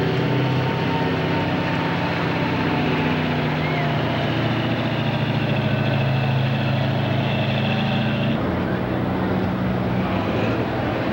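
A pulling tractor's engine idles loud and steady at a 1996 Illinois 10,000 lb Pro class tractor pull in Taylorville, a rough low rumble that shifts near the end, with an announcer's voice over it.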